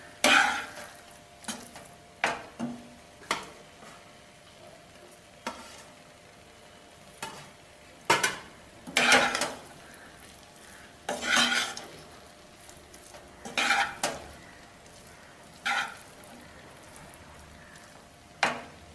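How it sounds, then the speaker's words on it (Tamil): Cooked rice is stirred into tomato pulao in a pan, with a spoon scraping and clinking in a series of distinct, intermittent strokes over a faint sizzle and no talking. "கொஞ்சம் கொஞ்சமாக சாதத்தை போட்டு கிண்டுங்க, அப்போ தான் உங்களுக்கு வசதியாக இருக்கும்."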